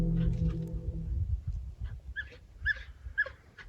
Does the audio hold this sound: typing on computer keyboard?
no